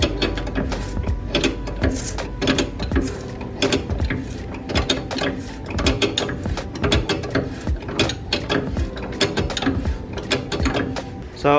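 Rapid ratchet clicking while loosening a car's suspension adjustment to raise it, fast rhythmic bursts of pawl ticks with brief pauses, close and loud with no talk.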